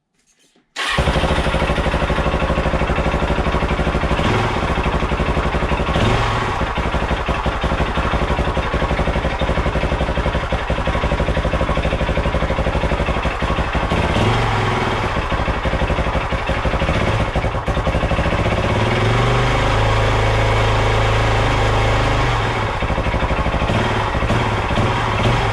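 A Suzuki DRZ 400 SM motorcycle, its carburetor freshly cleaned, fires up after a brief silence and settles into a loud, steady single-cylinder idle with small throttle blips, close and continuous, with no talking.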